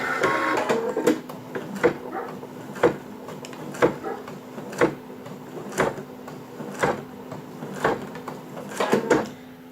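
An embroidery machine runs with a steady mechanical hum, and sharp clacking knocks repeat about once a second at a regular rhythm, close and clear, with no talking.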